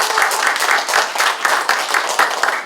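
A room of guests at an anniversary ceremony and commemorative event claps in a dense, lively burst of applause, close and continuous with uneven rhythmic peaks.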